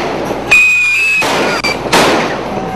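New Year firecrackers go off in loud, sharp bursts with crackling decay, one near blast after another, and a faint whistling tone rings through the middle.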